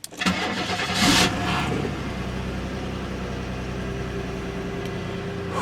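A 1995 Chevrolet Monte Carlo cranks and fires on a snowy cold start, a brief starter whine and catch followed by a steady, close engine idle.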